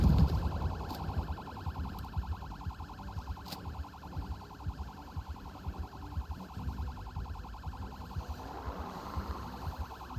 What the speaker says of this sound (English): I'm sure that siren's great fun to listen to on the YouTube stream